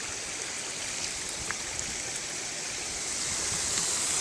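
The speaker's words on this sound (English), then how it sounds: "So here's the little waterfall." Small waterfall beside a campsite in Norway, a steady broadband rush of falling water filling the whole clip at even, moderate loudness, swelling slightly toward the end, with no voices.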